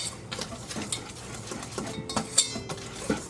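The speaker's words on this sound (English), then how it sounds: "Mix your flour and your baking soda together." Flour and baking soda mixed in a bowl, a run of light scraping and clinking strokes of a utensil against the bowl, fairly close and uneven in rhythm, with no talking.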